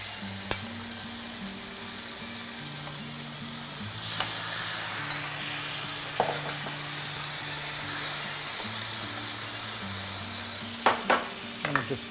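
Tomatoes go into a pan where veal is browning with aromatics, giving a soft continuous sizzle broken by occasional scraping stirs and light clinks, fairly quiet and close, with a faint low hum underneath.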